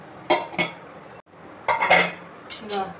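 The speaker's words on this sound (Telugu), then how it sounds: "ఇక కారం వేసిన వాళ్ళు కలిపి మూత వేయాలి." Ridge gourd curry with chili powder being stirred in a cooking pan and covered with a lid, giving several separate metallic clinks and scrapes of utensil against pan in short bursts, with a brief quiet gap between them.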